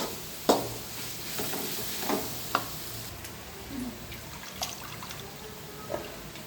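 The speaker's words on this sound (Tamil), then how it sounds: "இப்போ நல்லா வதக்கிக்கலாம்" Ground dried red chilli paste sautés in a pan for a chicken dish, with a soft, continuous sizzle broken by a few sharp spoon scrapes and taps against the pan at irregular intervals.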